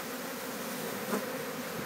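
A dense, steady buzzing of a bee swarm occupying a hive, close and continuous, with a slight swell in intensity near the middle.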